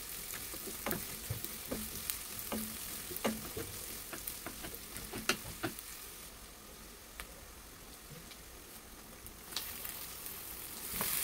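Onions for beef menudo fry in a pan and are stirred, a faint steady sizzle broken by scattered scrapes and clicks of the utensil, close by with no voices.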